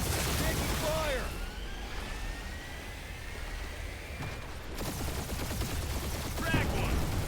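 Gunfire in a space dogfight in the video game Marvel's Guardians of the Galaxy, bursts of rapid blasts and booming impacts over a rumbling engine drone, with a voice talking during the fight.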